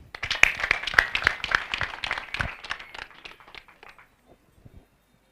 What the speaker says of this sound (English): We clap for him.